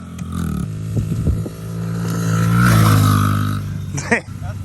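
A pit bike with a high idle roars past up close, its engine note swelling and peaking before fading away, with voices talking over it.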